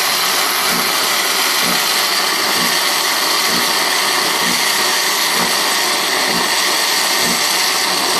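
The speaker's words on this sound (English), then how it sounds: "It is putting some frothy almond milk like in that." A coffee maker froths almond milk with a steady, loud, broadband whirring hiss, joined by a faint repeating low thump, running unbroken without voices.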